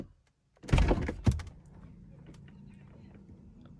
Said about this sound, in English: I'm going to open this door.